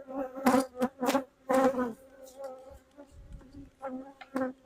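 Honeybees buzz around a hive in short, close passes that swell and fade, several flying right past, with quiet gaps between.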